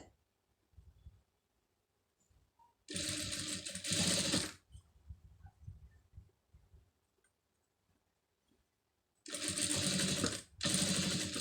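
Sewing machine stitching piping onto blue cloth, running in three close bursts of steady whirring, the last two nearly back to back, separated by quiet gaps with faint handling sounds.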